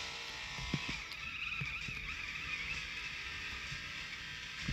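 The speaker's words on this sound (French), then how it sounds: "Voilà, là je drift en marche arrière." A BMW drifting in reverse in the racing game Off the Road 2, with a steady engine drone and faint tire noise running throughout at even loudness.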